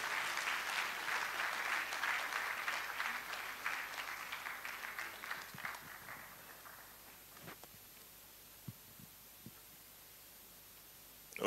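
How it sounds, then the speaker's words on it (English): Audience applause at a Ghana medical college ceremony, a spirited wave of clapping that gradually thins into scattered claps and quiet room noise with a few knocks. "please clap for him."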